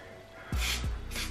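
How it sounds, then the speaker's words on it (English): Two quick close hisses of hairspray aimed at short hair set in heatless flexi-rod curls, one right after the other. "I'm gonna spray just a tiny bit more hairspray."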